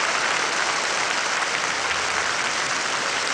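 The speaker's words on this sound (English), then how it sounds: "A great cheer from this Edinburgh audience" An Edinburgh audience at the 1972 Eurovision Song Contest breaking into dense, steady applause with cheering, a continuous loud wash of clapping from a large crowd.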